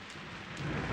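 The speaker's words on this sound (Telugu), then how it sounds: "వర్షం" Steady heavy rain hisses with a low rumble of thunder swelling near the end.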